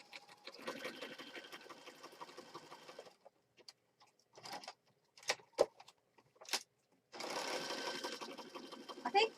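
Sewing machine stitching in short runs, a bursty whirring at the start and again near the end, with scattered clicks and handling noises in the quieter stretch between.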